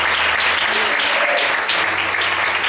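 Church congregation applauding in worship, loud, dense and continuous clapping filling the space for under three seconds, with faint voices mixed underneath.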